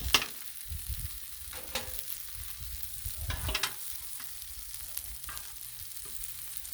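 Eggs fry on a Blackstone griddle with a constant close sizzle, punctuated by a few light clicks and scrapes of a spatula on the flat steel, and no one speaking.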